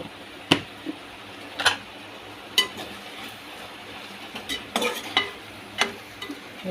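Okra and tomato curry being stirred in a pan, Andhra style, with salt mixed in: a steady low frying hiss broken by repeated sharp scrapes and clinks of the spoon against the pan, close and moderately loud, with no talking.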